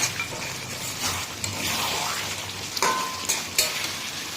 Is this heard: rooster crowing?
no